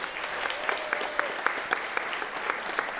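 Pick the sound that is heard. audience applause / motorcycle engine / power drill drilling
audience applause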